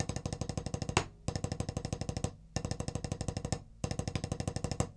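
Single stroke roll drumming exercise, alternating hands in fast even strokes, played in four bursts of about a second each separated by brief pauses, loud and close with no talking.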